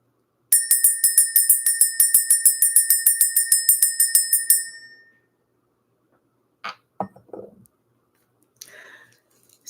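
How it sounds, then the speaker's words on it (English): A small bell rings to clear the energy, a rapid string of bright, ringing strikes in a steady rhythm for about four seconds before fading. A few faint scattered clicks and handling sounds follow in otherwise near silence. "We're going to go ahead and ring the bell."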